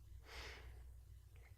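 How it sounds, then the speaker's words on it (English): A short, faint throat clearing, one breathy rasp with a fainter follow-up, heard close over a low steady hum in a quiet room. "Can't quit clearing my throat"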